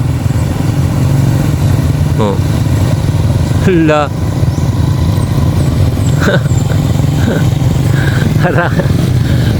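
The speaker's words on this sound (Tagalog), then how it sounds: "Yan yung motor oh" A motorcycle engine drones steadily throughout, close and loud, while people talk and exclaim briefly over it.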